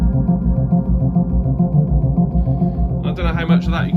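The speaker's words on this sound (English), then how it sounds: "So that's a stereo delay, and then I'll put the reverb on." A Yamaha DX7s synthesizer plays a sustained, lush chordal tone through stereo delay and reverb with a long tail, steady and fairly loud, with brighter repeating notes entering near the end.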